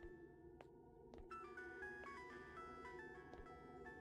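Phone in the Araya horror game, an electronic ringtone playing a stepped melody of tones, fairly faint over a low ambient hum, with a few soft thuds underneath.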